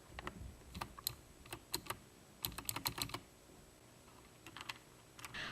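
Typing on a GK64 mechanical keyboard fitted with Gateron blue optical switches: sharp clicky keystrokes in quick bursts and short runs with pauses between, close and fairly quiet, with no voices.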